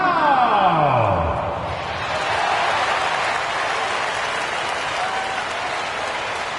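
A large basketball arena crowd claps and cheers loudly, with a descending musical sweep at the start before sustained applause carries on.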